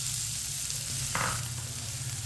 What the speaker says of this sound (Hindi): प्याज को 2-3 मिनट के लिए पका लेते हैं। ऐसे ही चम्मच चलाते हुए हल्का सा ब्राउन कर लेंगे।